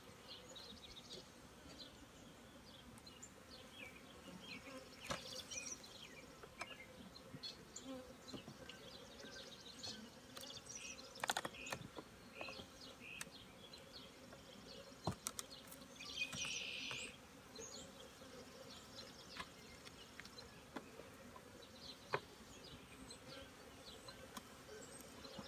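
Honeybees buzz excitedly around a beekeeper's smoker during early-morning hive work, a continuous close drone rising and falling as individual bees fly past, with a few scattered clicks.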